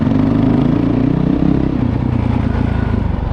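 Honda CRF450L motorcycle fitted with a Vortex ECU and Yoshimura RS4 exhaust, its engine running close and loud with a steady, throbbing idle and a slight rise in revs, with no talking.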